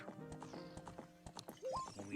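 Horse hooves clip-clop in a rhythmic trot in the Ocarina of Time Randomizer video game, mixed with game music and tones, fairly faint with a brief voice over it.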